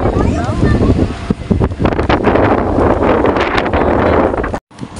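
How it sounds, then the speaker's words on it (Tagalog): Strong wind buffets the microphone in a constant loud roar, with a voice speaking faintly beneath it before a brief drop near the end. "grabe yung hangin"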